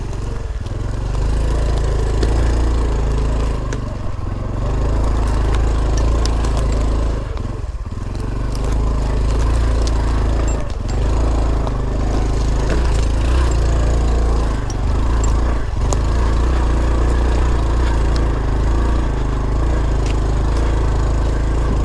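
Honda Trail 125 (CT125 Hunter Cub, 2021) motorcycle engine running steadily while riding off-road on a trail, a loud continuous low drone with brief dips and surges throughout, no talk over it.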